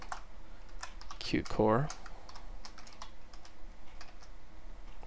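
Keys on a computer keyboard set up with gaming bindings clack in quick irregular runs while someone briefly speaks over the typing.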